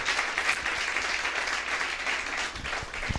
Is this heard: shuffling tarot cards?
no